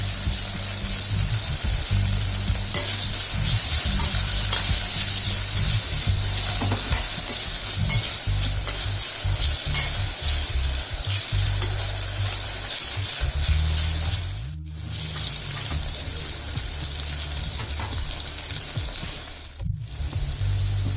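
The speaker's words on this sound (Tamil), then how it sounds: "வெங்காயமும் பூண்டு நல்லா வதங்கிருச்சு" Shallots and garlic sautéing with a little salt in a pan for a spicy shallot kuzhambu: a continuous close sizzle with scraping stirs, steady throughout apart from two brief drops, and no talking.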